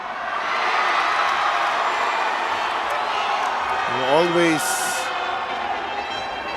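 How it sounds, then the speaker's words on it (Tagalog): Home crowd at a basketball game in Batangas, a steady wash of cheering and noise filling the arena throughout, with a commentator talking over it. "loving the crowd here in Batangas"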